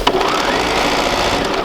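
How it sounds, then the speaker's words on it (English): A sewing machine runs a basting stitch in a steady, unbroken mechanical whir, close and fairly loud throughout. "we're going to sew all the way out"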